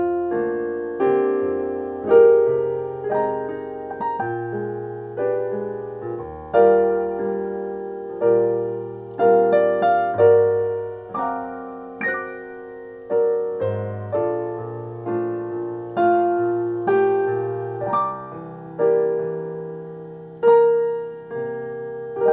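Jazz piano plays a tune slowly as a ballad, with soft sustained chords and a gentle melody rising and fading phrase by phrase, close and clear with no talking.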